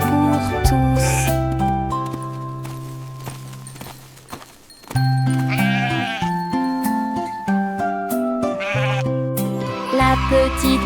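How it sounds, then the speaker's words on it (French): Sheep bleat in wavering, repeated calls set into a French children's nursery song, loud over a steady musical backing with clip-clop rhythm. "Ils sautaient tous les uns après les autres et bêlaient"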